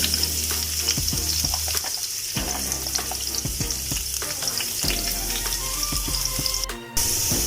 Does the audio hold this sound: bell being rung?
no